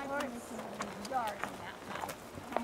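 Horse hooves clip-clop quietly and steadily as the horse is ridden, a faint rhythmic patter of footfalls heard under a person talking nearby.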